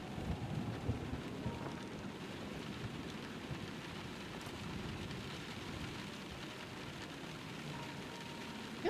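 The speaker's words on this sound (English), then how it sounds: "Oh, it's stormy." Steady rain and low rolling thunder of a storm in the video game Letter Lost, a constant dense hiss with a deep rumble underneath, soft and even throughout with no talk.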